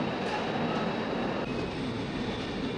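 Humsafar Express passenger train rolling into a station, a steady loud rumble of wheels and wagons with a faint high whine throughout, no voices.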